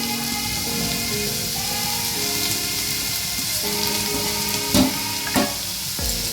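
Grated carrots hit hot ghee in a pan, giving a steady loud sizzle with a few sharper clatters of stirring near the end, and no talking.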